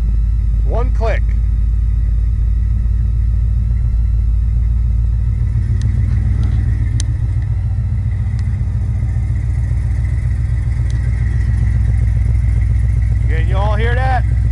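A 1969 Chevelle SS V8 idles steadily with a deep, even rumble, loud and close throughout, while brief voices come through near the start and end.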